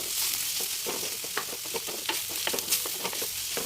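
Vegetables being stir-fried with turmeric and salt in a pan, with a steady close sizzle and frequent scraping, clinking stirring strokes throughout.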